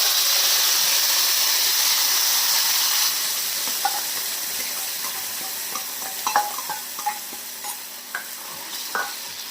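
Onion and tomato paste sizzles loudly in hot oil, a steady bright hiss that eases a little after a few seconds, with scattered soft clicks from stirring.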